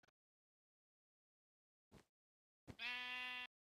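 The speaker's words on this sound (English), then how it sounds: "Sheep says goodbye too, apparently." A Minecraft sheep bleats once, a short nasal wavering baa heard clearly on its own after a couple of faint brief blips, with silence around it.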